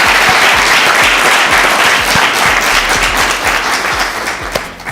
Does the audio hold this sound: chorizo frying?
no